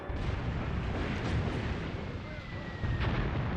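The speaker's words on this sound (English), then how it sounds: "the Lig is quite a quick firing weapon, so get a few shots in and try and do some damage before the tank returns fire" A single anti-tank gun shot fired at a tank in the WWII tactics game Graviteam Tactics, Mius Front: a dense, rumbling boom that fills the clip, loud and close, with a sustained low roar and no talking.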